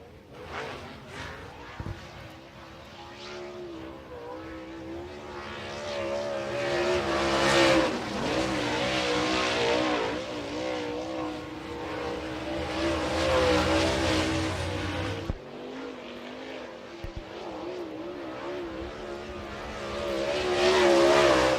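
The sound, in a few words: late model race car running on dirt track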